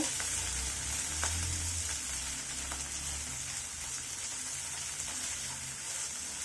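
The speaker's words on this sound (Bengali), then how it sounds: "এগুলোকে আমি হালকা ফ্রাই করে নিব" Onion, garlic and split green chillies fry lightly in a pan for a yardlong bean bhorta, giving a soft, even sizzle throughout. A few faint clicks are heard and no one speaks.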